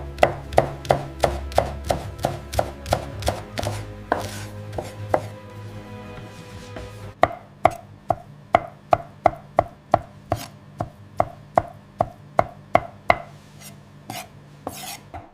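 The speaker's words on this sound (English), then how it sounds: "The yolks are meticulously hand-chopped to create the traditional garnish" Hard-boiled egg yolks hand-chopped with a knife on a board as a garnish for sturgeon caviar: crisp, rapid knife taps in a steady rhythm, close and clear, pausing briefly midway before resuming.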